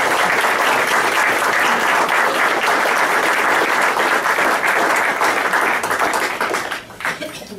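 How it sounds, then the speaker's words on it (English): Sustained applause from the audience at a town council reorganization meeting after the oath of office, dense steady clapping throughout that thins and fades near the end. "Please give them a nice round of applause."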